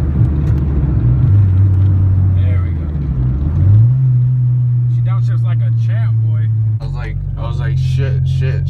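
A crashed Honda Civic's engine revs while driving, its pitch climbing, dropping and stepping between gears in a loud, close drone, with people talking over it.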